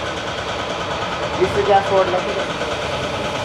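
A vehicle engine idles with a steady, even hum close by, while people talk over it.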